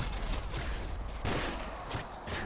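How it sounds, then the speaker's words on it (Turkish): Covering fire from allied soldiers in Call of Duty Modern Warfare 2, a dense, continuous crackle of gunshots with a few sharper bursts, fairly close and unbroken. "güzel destek koruma ateşi sağlıyorsunuz bana ya"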